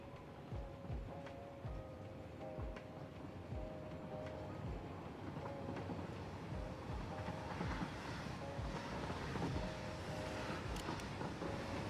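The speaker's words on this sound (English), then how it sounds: "Look at that train." A large train running in the factory-building video game Satisfactory, a steady rumbling drone with repeated rhythmic clacks and faint tonal hums throughout, loud and continuous with no talk.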